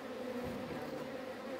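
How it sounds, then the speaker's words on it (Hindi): Native honey bees buzz in winter as they carry pollen back to the hive, a faint, steady droning hum with no voices. "इतने सर्दियों में भी देख सकते हैं आप पोलन लाते हुए मधुमक्खियाँ"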